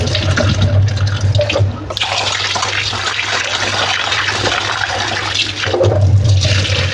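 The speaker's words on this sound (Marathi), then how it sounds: "आता हे मस्त पाच ते सहा वेळा धुवून स्वच्छ आपल्याला ठेवायचे" Soaked ration rice and fenugreek seeds being washed by hand in water, with steady close sloshing, swirling and pouring that continues throughout, easing briefly near the two-second mark.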